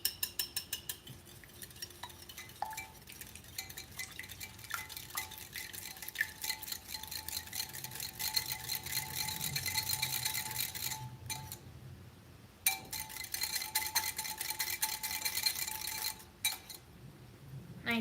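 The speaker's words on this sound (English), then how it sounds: "We're gonna whisk it up." A mixture is whisked in a bowl with quick, rhythmic scraping and clinking of the whisk against the sides, running steadily with a couple of brief pauses.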